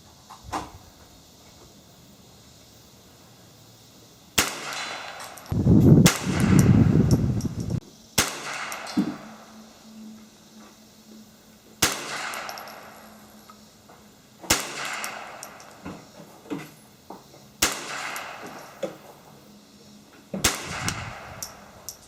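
Rifle shots ring out at a shooting practice range, roughly eight sharp cracks spaced several seconds apart, with a louder rumbling blast early on and a faint hum between shots.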